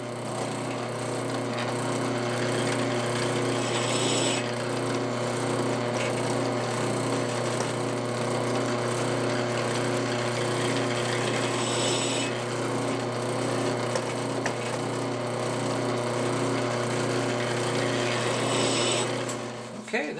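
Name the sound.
drill press chamfering holes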